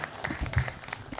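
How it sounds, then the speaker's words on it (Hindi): Applause from a mushaira audience at a comic Urdu poetry event, a short burst of clapping at moderate level with some crowd murmur beneath. "ताली बजाइए।"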